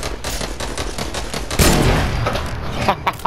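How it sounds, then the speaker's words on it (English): Rapid bursts of gunfire from a Fortnite match, loud and close, with a dense fusillade building into heavier overlapping shots before a few last isolated cracks. "He tried to shoot."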